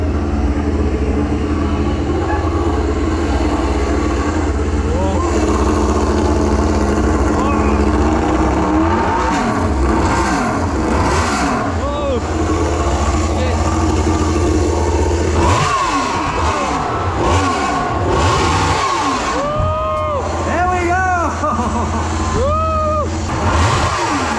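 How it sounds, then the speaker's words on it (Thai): MotoGP motorcycle engines start and rev in a loud, continuous roar, several bikes blipping throttles with rising and falling pitch sweeps, close by amid a busy event atmosphere. "สตาร์ทแล้วทุกคน สตาร์ทเครื่องแล้ว"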